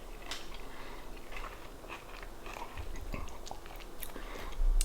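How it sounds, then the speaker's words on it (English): Crunchy candy bar being bitten and chewed up close, with repeated irregular crisp crunches and mouth sounds over about five seconds, no talking. "I love crunchy bars."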